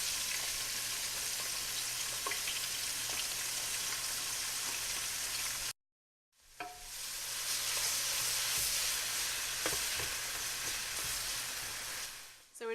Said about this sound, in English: So we're just gonna let those onions caramelize a little bit